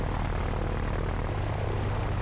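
A small propeller airplane taxis nearby at a flight-instruction airfield, its engine a continuous, fairly loud droning buzz that holds steady throughout.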